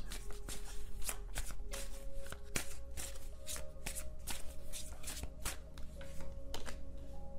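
Tarot cards shuffled by hand at close range, repeated quick riffles and soft card slaps in an uneven rhythm over a low steady hum, with no one speaking.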